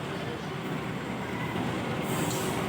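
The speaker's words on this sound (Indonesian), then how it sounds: "Ini dia teman-teman kereta api lokal Dohonya yang akan mengantarkan aku ke Kediri via Kertosono" KA Dhoho local passenger train pulling into a station platform, a continuous rumbling roll of wheels on rails that grows slightly louder near the end, heard from the waiting platform.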